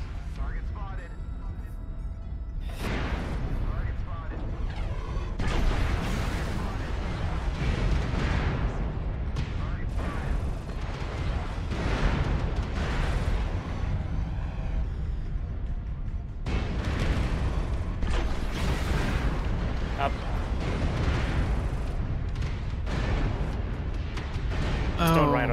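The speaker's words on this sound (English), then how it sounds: "That was the airstrike." Heavy, sustained explosive barrages from an airstrike in the mech combat game Mechwarrior Online, rolling booms and blasts filling the whole stretch at steady loudness, with voices talking over the battle.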